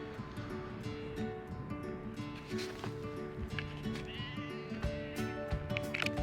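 Sheep bleat repeatedly at close range on a mountain trek, with several overlapping calls above a steady outdoor background.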